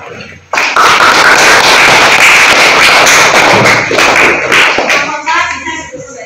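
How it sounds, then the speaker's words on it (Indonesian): A room full of students applauds a student group during a civics class performance assessment, with dense, sustained clapping that starts abruptly and fades near the end as voices start up. "Kasih tepuk tangan untuk kelompok 4."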